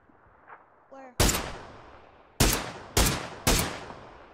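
Four sharp gunshots from PUBG on the Erangel map: a single crack, then three more in a fairly even rhythm, each loud and decaying with a short echoing tail, with faint clicks just before.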